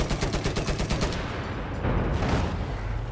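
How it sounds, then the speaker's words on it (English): Gunfire in Battlefield 4 rattles in rapid, repeated bursts, followed by a broad, booming rocket explosion that lingers over continued shooting, all loud and close. "And there's the rocket."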